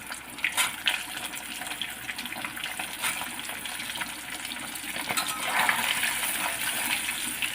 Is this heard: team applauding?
no